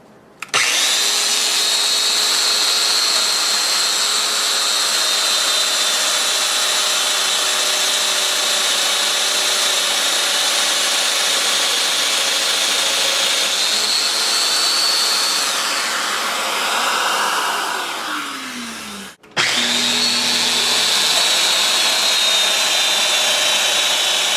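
A Festool Domino joiner plunges into a wood workpiece, a loud steady high-pitched motor whine running about eighteen seconds with a pitch drop as it winds down, a brief gap, then the motor starting again.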